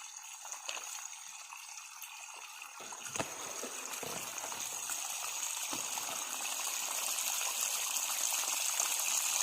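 Clear, natural well water runs through a rural field channel for irrigation. A steady trickling and gushing stream grows gradually louder and fuller over the clip, heard close with no voices.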